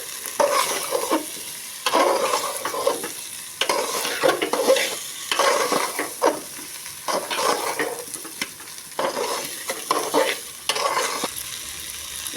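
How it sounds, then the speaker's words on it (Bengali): Tomato, onion, green chili and vegetables sauté in a pan for vegetarian khichdi, a steady sizzle broken by regular scraping stirs of a spoon, close and moderately quiet, with no voices. "সবজিগুলোকেও ভালো করে কষিয়ে নেব।"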